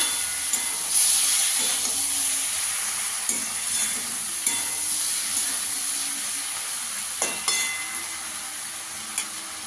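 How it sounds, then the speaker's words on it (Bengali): Ginger garlic paste fries over a low gas flame with a steady, even sizzle, broken now and then by the soft scrape and clink of a spoon stirring in the pan. "গ্যাসের আঁচটাকে কম করে ভালো করে কষিয়ে নিতে হবে।"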